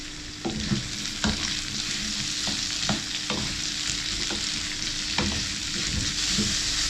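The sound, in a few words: vegetables tossed on high heat in a pan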